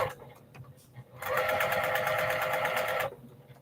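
A sewing machine stitches fabric in one steady, fast-running burst of about two seconds, close and fairly loud, preceded and followed by quieter handling noises.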